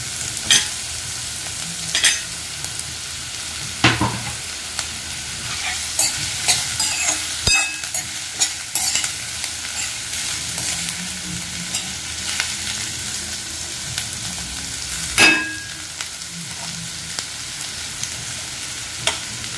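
Potato pieces fry in hot oil in a home kitchen, a steady bright sizzle broken by occasional scraping stirs of a spoon in the pan, with no talking.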